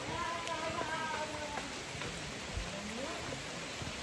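Steady rain falls on the Brahmagiri hills, a dense even hiss that fills the whole stretch with no clear breaks and no voices.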